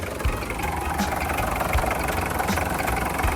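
An original Datsun diesel engine idling just after being started, a steady, close, clattering rumble with an even knock and no talk.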